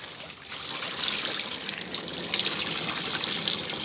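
Excess water glass drips and trickles off freshly treated batik fabric hung up to drain, a steady close-up patter and splash that runs the whole stretch with no talking.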